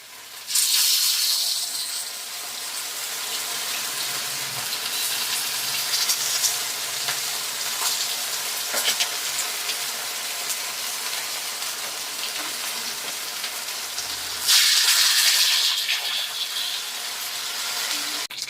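Masala-coated fish fries in a pan over a low flame. A loud, broad hiss of sizzling oil runs throughout, with sharper bursts near the start and again near the end.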